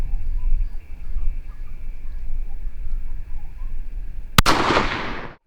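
A single sharp rifle shot cracks loudly and close while the rifle is being sighted in outdoors, followed by a brief decaying echo; steady low background noise runs before it.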